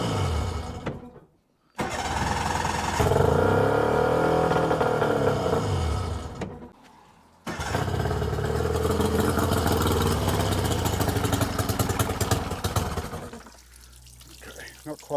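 A Mercury 40hp outboard motor being kicked over after a carburetor clean gives two long bursts of loud, churning cranking and sputtering engine noise separated by short pauses, with a brief quieter tail at the end.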